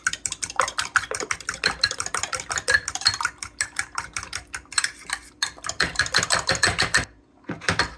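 Rapid whisking of eggs into a Christmas cake mixture, a fast continuous clatter of whisk against bowl close up, stopping briefly near the end before resuming.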